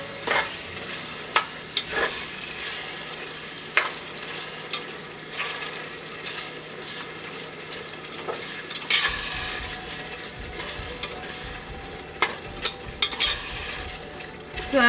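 A spoon stirs curd into sizzling vegetables for biryani in a pressure cooker, scraping and clacking at irregular intervals over a constant frying hiss.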